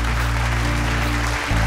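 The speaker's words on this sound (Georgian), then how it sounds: "მარიამ, ძალიან დიდი აპლოდისმენტები გთხოვთ." Audience clapping for singer Mariam on a televised singing show, dense continuous applause filling the room at steady loudness, with a brief dip in background tones near the end.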